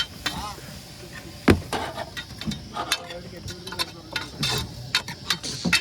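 Onions cooking in a pan for fish curry aboard a small boat out at sea, with irregular stirring clinks and knocks over a soft background sizzle, alongside some nearby voices.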